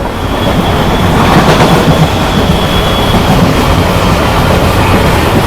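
A Konkan Railway special train runs from Madgaon to Bengaluru, heard from inside a coach as a loud, steady rumble with continuous wheel clatter and a faint high whine throughout.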